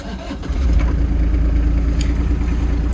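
A tracked machine with a boom, out in the woods, fires up after a brief crank and settles into a steady, low-revving diesel idle, close and continuous.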